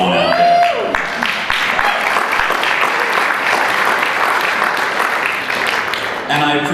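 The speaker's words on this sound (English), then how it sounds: "And I appreciate your warm applause." An audience at a talk on GMO food health hazards breaks into steady, loud applause that fills the room, with a brief voice at the start before the clapping takes over and holds evenly to the end.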